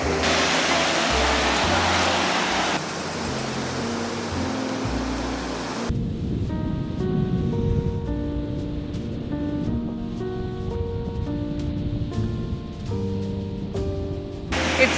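Ocean waves and an incoming tide wash onto a beach in Chile as broad, continuous surf noise, heavy at first and then easing to a steadier roar, with no voices heard.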